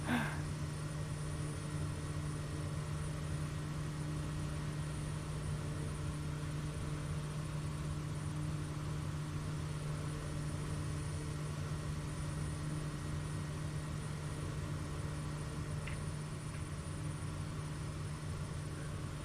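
A propeller aircraft engine drones steadily during a touch-and-go landing in a flight simulator over the High Sierra, a constant low hum with a faint whine, even in loudness from start to finish.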